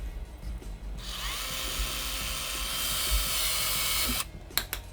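A DEWALT 20V DCE180B plastic tubing cutter slices through ordinary schedule plastic pipe, a loud close high-pitched motor whine lasting about three seconds before cutting off, followed by a few brief clicks.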